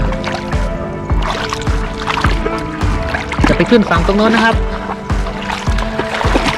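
Water sloshes and splashes as a toy boat loaded with toy cars moves across, joined by a regular ticking pulse, and someone narrates excitedly throughout, nearby and clear.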